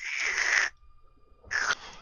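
A voice mimics an owl-like bird hoot: two drawn-out breathy hoots separated by a short silence, close and fairly loud, with no other talk.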